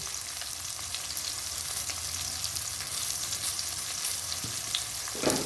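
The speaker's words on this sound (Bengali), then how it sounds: "ভালো করে নেড়ে ছেড়ে মিশিয়ে দেবো" Potatoes and powdered spices (chilli, cumin, coriander, turmeric) sizzle steadily in a frying pan as they are stirred, a continuous close hiss with soft scraping and a brief clatter near the end; no talking.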